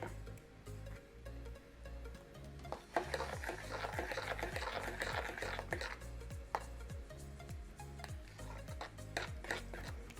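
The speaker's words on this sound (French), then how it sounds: "Donc, tac, on remue." Food being stirred in a pan with a utensil, rhythmic knocking and scraping repeating through the stretch, close and fairly loud over a low background hum.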